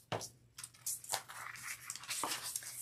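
Craft material being cut into a shape for Halloween decorating, irregular close snips and rough tearing rustles with short pauses between cuts and no talking.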